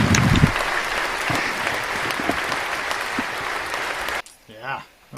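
An audience claps in dense, steady applause after a live band performance, loud and close for about four seconds before cutting off abruptly, followed by a brief voice.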